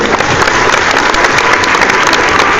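Audience applause after a call from the stage at an evening event, a dense, steady wash of many clapping hands filling the whole moment, loud and close.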